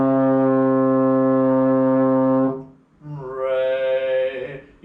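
A trombone holds a steady low C in sixth position, slide stretched far out, one long sustained note, then a brief break and a second brassy note that swells in, played up close.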